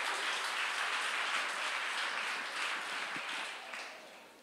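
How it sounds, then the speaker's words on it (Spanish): A church congregation claps together in sustained applause, a dense, steady wash of hands that holds for several seconds and then tapers off toward the end. "Un aplauso, un aplauso, un aplauso fuerte."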